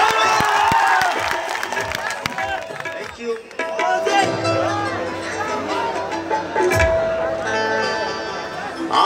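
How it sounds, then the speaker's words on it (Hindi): A crowd at a live stage event claps and cheers, a dense wash of applause and shouts with voices talking over it. "तो इन तीनों भाइयों के नाम पे को जोरदार ताली होगा।"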